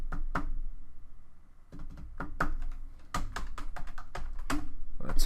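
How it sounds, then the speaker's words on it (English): Clattery bursts of typing on a computer keyboard, quick uneven key presses in short clusters separated by brief pauses, close and clear with no talking. "Let's type it then."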